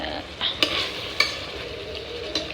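Food being reheated and stirred in a pan in a home kitchen, with a steady close sizzle and a few sharp utensil scrapes and clinks against the pan.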